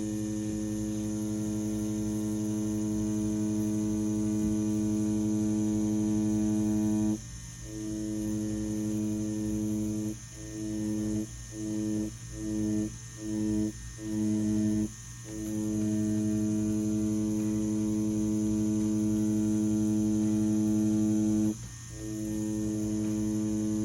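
Wireless Ambition Ninja rotary tattoo machine running with a round shader needle, a steady electric hum that dips briefly in several quick pulses and a few longer breaks as it works lines, fairly quiet and alone.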